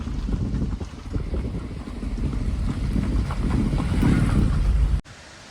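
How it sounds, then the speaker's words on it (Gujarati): Floodwater rushing through a swollen river, a loud continuous low roar with heavy wind buffeting on the microphone, building slightly before cutting off abruptly near the end, with no talk. "નદીમાં પાણી આવ્યું જોરદાર।"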